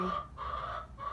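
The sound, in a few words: chicken hens clucking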